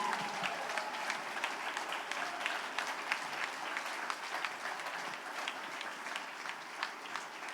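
A church congregation applauds, a dense, even wash of many hands clapping at moderate distance, continuous and fairly quiet throughout.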